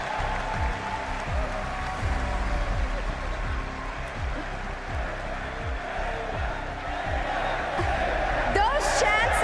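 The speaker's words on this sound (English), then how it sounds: "Those chants have finally turned" Dense arena crowd at a CS2 esports major grand final, Team Vitality against The MongolZ in Austin, roaring and chanting in a rhythmic swell that stays loud throughout, with a voice talking over the noise.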